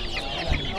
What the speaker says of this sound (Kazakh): Үндүктүн балапандары.